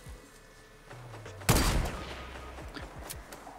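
Gunfire in the video game Fortnite: a sharp, loud shot bursts out after a quieter stretch, followed by a decaying tail and a few fainter shots.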